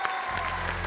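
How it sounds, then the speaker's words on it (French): Brief burst of audience applause at a national cheesemakers' competition ceremony, a dense wash of clapping lasting under a second with a low hum beneath it. "Et on l'applaudit."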